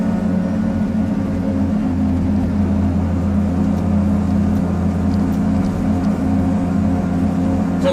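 A Piaggio Ape 50 three-wheeler drives along with its small engine droning steadily and evenly throughout, close and continuous with no speech.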